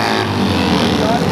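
Vintage Triumph twin motorcycle engine roaring steadily during a VDTRA Pro/AM Twins race at Waco, a dense continuous drone mixed with other bikes, with a commentator talking over it.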